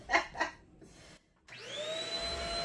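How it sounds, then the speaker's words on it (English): A vacuum cleaner inside an RV switches on after a couple of soft knocks and then runs as a loud, steady, close whine, its motor spinning up to a constant pitch with no talking. "Got a vacuum. Crank it up."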